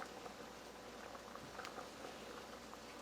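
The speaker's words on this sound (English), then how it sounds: "Then I'm going to simmer it until the pasta noodles are done." Italian chickpea vegetable soup with pasta noodles simmering in a pot, a faint, steady low bubbling with soft patters and pops throughout, no voices.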